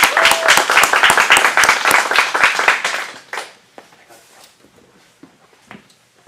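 Small audience at an acting studio showcase in Phoenix claps for an upcoming monologue performer, brisk close handclaps for about three seconds that quickly thin out into a few scattered claps and quiet.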